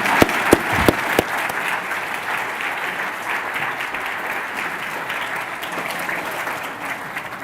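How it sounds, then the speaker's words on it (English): An audience gives a round of applause at a prize and lecture ceremony, a full, steady wash of many hands clapping, opening with a few sharp louder claps and tapering gently toward the end. "you can give them a round of applause for that"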